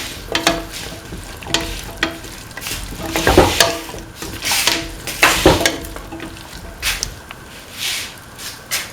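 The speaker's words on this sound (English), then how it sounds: "Mix in the tomato pieces thoroughly with the rest of the mixture." A spoon scrapes and clacks against a pan while tomato pieces are stirred into a sizzling spice mixture, with rhythmic strokes over a steady frying hiss.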